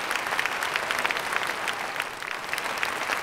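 An audience at an Independence Day debate program in Tamil Nadu claps together, a dense, even patter of many hands with steady volume and no voices over it.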